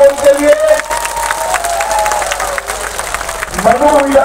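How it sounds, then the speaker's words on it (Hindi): A crowd at a political election rally claps and cheers for a candidate, a dense mix of clapping, shouting and chatter with voices rising over the noise near the start and end. "ताली बजाओ सभी लोग प्रमोद के लिए"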